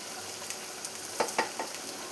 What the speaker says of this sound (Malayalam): നമുക്കിതൊന്നുകൂടെ ഒന്ന് ഇളക്കി കൊടുക്കാം